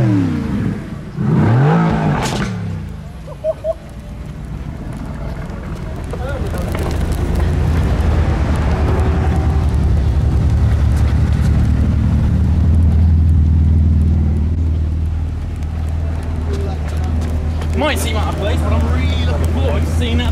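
A McLaren 720S supercar pulls away and accelerates at the Goodwood hill climb, its engine building to a loud sustained roar mixed with wind buffeting on the microphone, with a voice heard early on.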